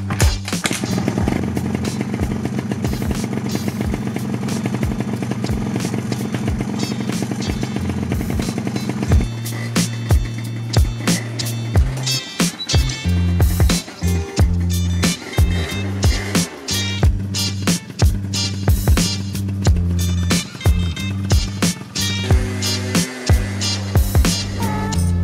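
Motorcycle fitted with a modified stock exhaust converted into an expansion-chamber pipe, running loud and close: a steady buzzing idle, then a run of sharp, choppy throttle blips and pops with brief gaps between bursts.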